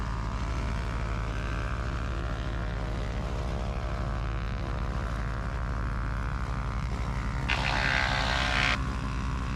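A gyroplane's propeller engine drones steadily at a low idle while taxiing on an airport surface, a loud continuous hum with a brief burst of hiss near the end.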